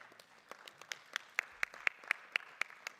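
Sparse clapping from a small audience at a Westbury board of education meeting, a handful of distinct, fairly faint claps in a loose irregular rhythm.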